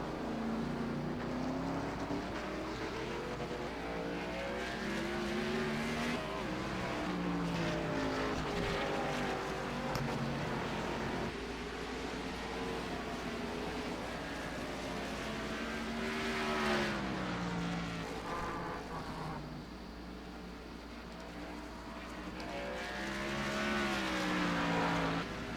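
NASCAR stock cars in the iRacing simulator at Sonoma roar steadily throughout, with several engines rising and falling in pitch as they pass and shift, a continuous loud racing drone with no talk.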